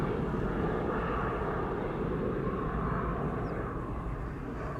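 An Embraer 175 airliner departs Amsterdam Schiphol Airport, its engines giving a loud, steady, broad jet roar that holds without pause throughout, with no voices over it.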